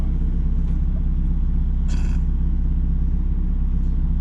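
A 2019 Mazda Miata's engine drones at a steady, loud, low rumble heard from inside the car, given too much gas while the driver shifts gears, with a brief brighter surge near the middle.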